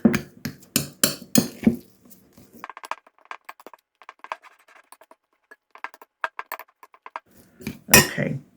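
Cream cheese and mozzarella being worked together with a sturdy spoon in a bowl, giving a run of close scraping knocks and clinks, sparse and intermittent, with a louder clatter at the start and end.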